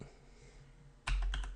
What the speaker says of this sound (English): My keyboard is also really bad.